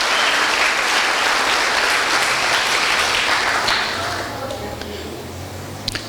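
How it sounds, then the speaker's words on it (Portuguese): A church congregation applauding together, a steady dense wash of many hands clapping that stays loud for most of the stretch, then softens slightly near the end with a few sharper individual claps. "Você pode aplaudir o Senhor?"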